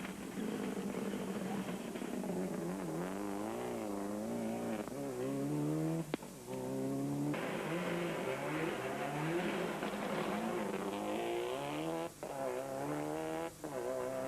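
A rally car at the Punchestown rallysprint corners hard on a narrow-track suspension setup, its engine revving and changing pitch steadily, with tyre squeal as it works the tyres through the turns, heard from a moderate distance.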